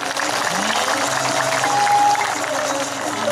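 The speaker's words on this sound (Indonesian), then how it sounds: "Tepuk tangan." Audience applause at a Balinese Drama Gong comedy performance, a dense, steady wash of many hands clapping throughout, fairly loud with crowd noise underneath.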